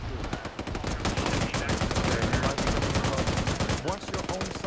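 Rapid, dense gunfire from the Arma 3 military video game, with overlapping bursts and sharp shots crackling continuously at close to mid range, mixed with distant fire throughout.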